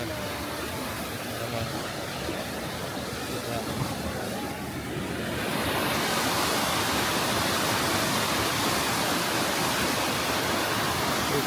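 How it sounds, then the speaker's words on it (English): A waterfall in Candijay, Bohol, pouring down a mountainside as a dense, continuous roar of rushing water that grows louder and closer partway through, with a voice faintly audible at times. "These falls go for a long way down the mountain."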